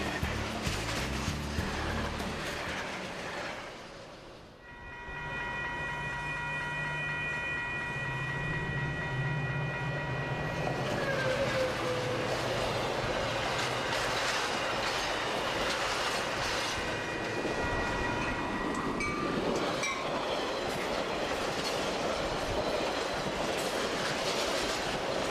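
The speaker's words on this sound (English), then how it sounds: "the most impressive trains on the route are the fleet of Metra commuter trains that come in" A Metra commuter train on a three-track Chicago line rolls past close by, a steady loud rumble of wheels and railcars with clickety-clack and a sustained horn-like tone partway through, no voices.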